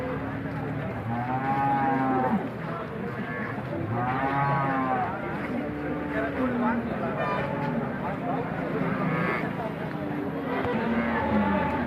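Cows at the Alephata cattle market in Maharashtra moo repeatedly in long, drawn-out calls over a busy crowd, with people talking nearby throughout.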